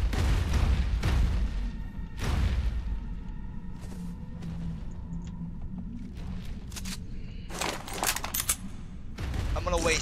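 Repeated gunfire in Ark Survival Evolved, aimed at a Giga on The Island map, comes as loud close bursts spread across the span, with steadier rumbling noise between shots.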